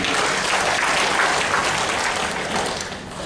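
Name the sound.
applause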